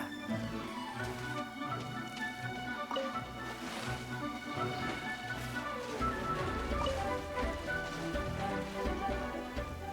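Steady rain pattering on surfaces in the game Genshin Impact, a continuous soft hiss under layered game music, with no voices.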